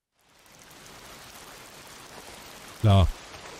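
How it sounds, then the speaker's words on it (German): Steady hissing rain falls throughout in the video game Days Gone, with one brief, loud knock or burst near the end. "Hier regnet."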